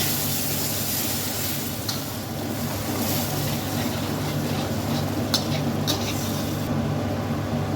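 Spice paste with a little water is stirred and fried in a pan for egg rice, giving a steady, close sizzling hiss with faint scrapes of the stirring utensil throughout.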